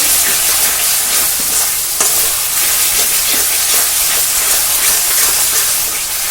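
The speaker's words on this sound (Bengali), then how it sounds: "নুনটা সুন্দর করে মিশিয়ে নেবো পেঁয়াজের সঙ্গে।" Onions salted and stirred in a hot pan, a loud, dense, continuous frying hiss with scraping strokes of the spoon running throughout, close up and without any voices.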